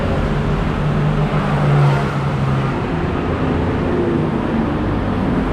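Cars idle and roll through traffic outside Siam Paragon in Bangkok, a dense, steady roar of engines with a low droning tone from a nearby vehicle.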